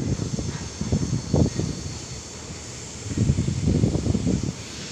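Strong gusts buffet the microphone on a railway platform, producing a continuous hiss with irregular low thumping bursts of wind noise.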